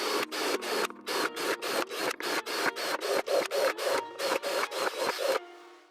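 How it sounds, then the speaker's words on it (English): Repeated short bursts of a power drill biting into a heater's metal or plastic casing, about twenty quick pulses with brief gaps, close and fairly loud. "We're gonna take this lovely thing and drill a lot of holes in it."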